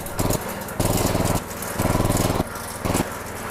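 A grass chopper engine runs close and loud, its pulsing drone rising and falling in bursts as it is throttled up after starting, with faint voices beneath.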